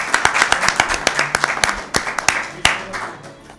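An audience at a Christmas family program gives clear, close hand claps, irregular and slightly uneven, tapering off after a few seconds.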